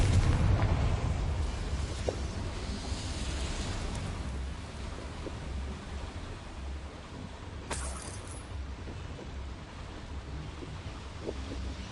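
Confringo blasting spell going off in Hogwarts Legacy, a broad rumbling boom at the start that fades into a sustained windy roar, with a sharp crack near the middle.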